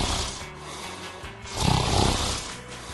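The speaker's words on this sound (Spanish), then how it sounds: "sus ronquidos lo delatan" A man dressed as a pirate snores loudly while asleep during a movie, with rough, rasping breaths that swell into a louder snore midway, close and alone.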